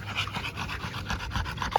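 A fat dog, one trained for sleeve biting, pants heavily and rapidly at close range in a steady rhythm of quick breaths with no talking.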